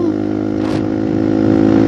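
A motorcycle engine is revved hard in high gear at about 75 km/h on the road from Sidokerto to Telaga Wahyu, Magetan, giving a close, strained, steady droning whine with strong harmonic hum.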